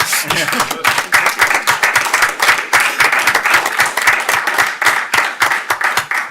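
Clapping in a meeting room during a city commission work session, a fairly close group of people applauding with distinct individual claps at an uneven rhythm, steady for several seconds.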